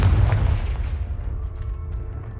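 A heavy blasting spell explodes in the Hogwarts Legacy game with a loud, deep boom that decays over two seconds into a rumbling tail, with no other sounds over it.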